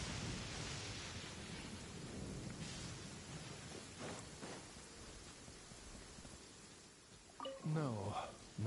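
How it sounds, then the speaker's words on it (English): A lightning strike in Genshin Impact, a long rumbling thunderous crash with rain-like hiss filling the foreground, loud and close, and a voice speaking briefly near the end. "He really tried to strike me with lightning."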